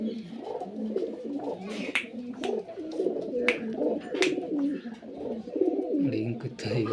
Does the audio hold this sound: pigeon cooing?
yes